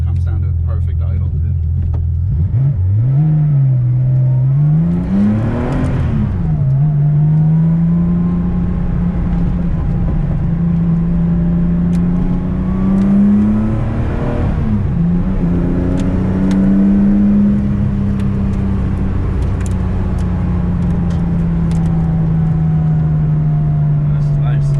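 A 1977 Porsche 911 RSR tribute settles from a rev into a steady, low, rumbling idle, heard close from inside the car, with voices talking over the engine throughout.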